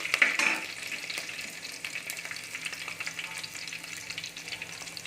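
Onions frying over a full flame at the start of a fish curry, a steady crackling sizzle at moderate volume with a brief sharper clatter at the start, no one talking.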